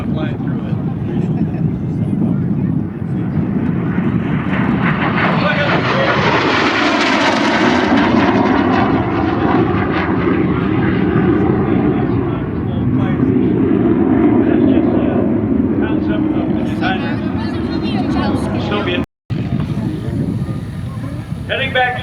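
MiG jet aircraft at an air show demonstration roar loudly and continuously overhead, the engine pitch sweeping as they pass, with wind buffeting and a commentator speaking over the noise.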